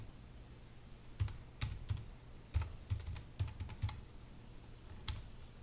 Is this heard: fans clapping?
no